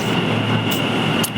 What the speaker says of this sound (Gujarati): ટ્રેન આવી ગઈ તો મેટ્રો.